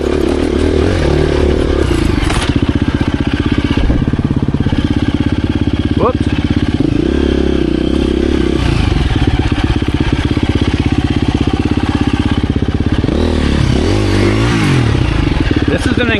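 A 2024 KTM 350 EXC-F dirt bike ridden off-road, its engine revving and clattering close by throughout, with scrapes and rattles over rough ground and a voice speaking over it at times.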